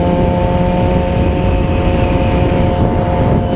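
A motorcycle engine drones loudly and steadily while riding, a constant close roar with wind noise and no break in pitch.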